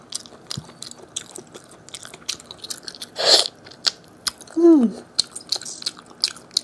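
Close, wet chewing and sharp biting into a fatty braised pig trotter, with crunchy bites and squishy mastication in an uneven rhythm, loud and intimate, without speech.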